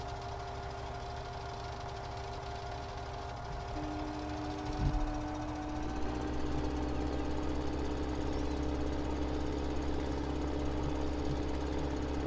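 Farm tractor engine in Farming Simulator 17 labouring uphill, a steady droning hum with harmonic tones that shift pitch midway as the load changes, continuous and fairly loud throughout.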